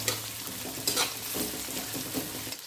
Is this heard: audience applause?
no